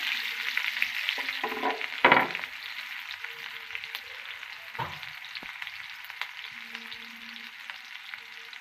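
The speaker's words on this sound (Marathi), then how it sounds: "आता आपण कांदा टाकून देऊ मिरच्या आणि कांदा" Onion and green chillies frying in hot oil with a steady sizzle, a few louder bursts and stirring scrapes early on, close and moderately quiet with no talk.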